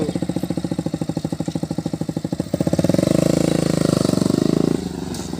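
A motorcycle engine idles with a steady throbbing pulse, then revs up louder for a couple of seconds before dropping back, close by.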